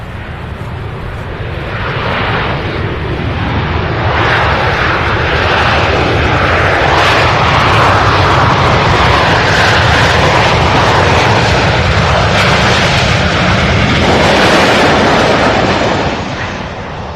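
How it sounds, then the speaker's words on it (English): A Southwest airliner from Chicago lands at Louisville's SDF airport, its engines producing a loud, steady roar that swells and holds for many seconds before easing slightly. "Nice landing by Southwest"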